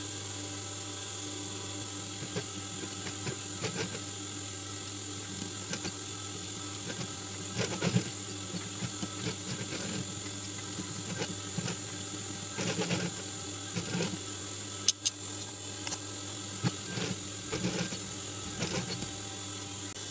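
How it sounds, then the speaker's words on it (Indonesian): Sewing machine stitching a thread design onto a combination hat, its motor humming steadily with a faint rhythmic chatter over about twenty seconds, close by and without talk. "Dan saya akan menggambar lagi pakai benang ya, pakai mesin jahit seperti ini."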